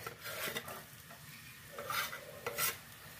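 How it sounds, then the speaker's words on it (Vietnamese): Minced garlic sizzles and spits in hot oil while a spatula scrapes and stirs it around the pan, with several sharper scraping strokes over a steady soft frying hiss. "cho cái phần tỏi bầm vào mình ờ, xào cho nó thơm lên"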